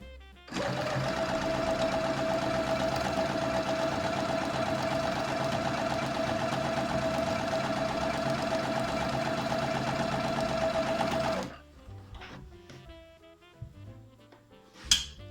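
A home sewing machine stitches steadily and loudly for about eleven seconds at the start of an apron seam, running backward to lock the stitch, then stops and leaves only faint handling sounds.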